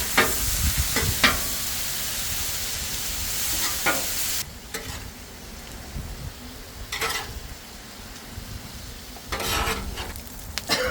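Marinated meat sizzling on a flat-top griddle, steady frying hiss punctuated by loud scraping and stirring strokes from a spatula, close up with no voices.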